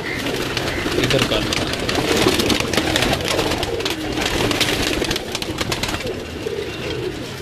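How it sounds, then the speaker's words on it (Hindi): Pigeons cooing on a home rooftop, a dense continuous murmur of coos and flutters close by, with a brief spoken voice in the background. "ये वो कबूतर है, ये वो कबूतर है।"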